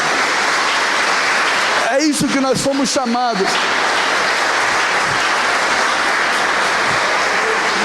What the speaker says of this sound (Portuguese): Você tem que dar uma salva de palmas para esse pai.